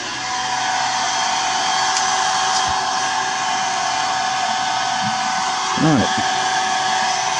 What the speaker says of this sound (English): Turn on the startup blower.